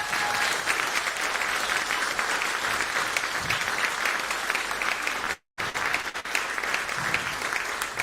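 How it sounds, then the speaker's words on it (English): Audience applause after a school street band performance at a showcase concert, a steady dense clapping that fills the clip, briefly cutting out near the end before resuming. "Can we give them another round of applause?"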